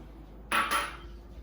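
Sugar poured into a cooking pan makes a short, close gritty rush lasting about half a second, with a soft grainy tail fading out afterward.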